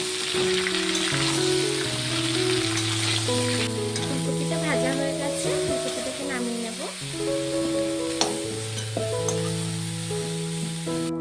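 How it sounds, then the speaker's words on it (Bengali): Steamed cauliflower frying in oil with a spoonful of salt and turmeric gives an ongoing sizzle with occasional stirring, heard under fairly loud background music. "এখন ফুলকপিটাকে ভেজে নেব দিয়ে দেবো এক চামচ নুন দেবো এক চামচ হলুদ গুঁড়ো ফুলকপিটাকে একটু ভেজে নেব"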